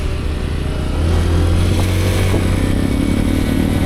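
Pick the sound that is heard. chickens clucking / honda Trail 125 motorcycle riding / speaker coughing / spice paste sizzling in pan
honda Trail 125 motorcycle riding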